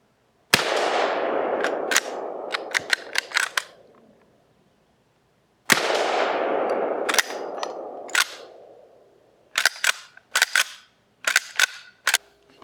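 Gunfire from an original Winchester 1886 or 1887: two bursts of loud, sharp reports with lingering echo tails, then a rapid cluster of crisp shots near the end, all close and with no talking.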